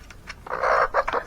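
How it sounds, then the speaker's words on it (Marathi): Chickens and a rooster give a short burst of clucking calls, close by and fairly clear, over within about a second. "हा कोंबडा बघा कसा आहे"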